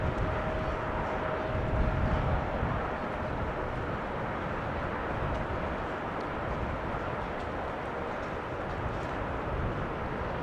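Cargolux cargo aircraft at Amsterdam Schiphol Airport, a steady broad engine roar held at moderate distance throughout, with no talking.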